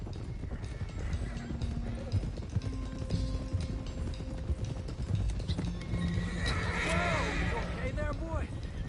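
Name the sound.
horses neighing and hooves clopping in a video game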